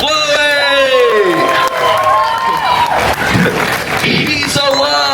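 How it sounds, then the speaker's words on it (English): A small group claps and cheers loudly at close range, with excited whoops and high children's shouts mixed into the lively, overlapping clapping. "Everybody clap for Chloe!"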